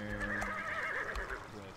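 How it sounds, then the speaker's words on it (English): A horse in the video game Zoo Race gives a loud, wavering whinny that rises and falls for over a second, while a person talks over it. "Anna, the horse."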